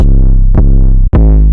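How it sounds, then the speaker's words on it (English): Lengthened 808 bass notes in FL Studio for a trap beat, three loud, heavy harmonic hits sustaining almost back to back with only a tiny break before the last, no voice present. "the 808 sample will continue to play for as long as the note is playing"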